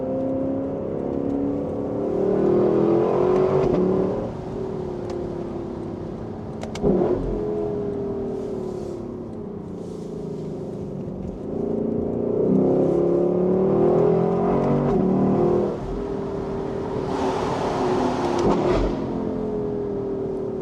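Dream sports car with a fast transmission accelerating from inside the cabin, engine note rising and falling through several gear changes over a steady road rumble, loud and close throughout.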